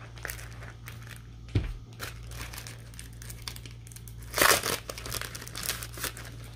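A small July planner sticker is peeled off a sticker sheet, producing soft crinkling paper and plastic sounds with a brief louder rustle midway, close and quiet over a low steady hum.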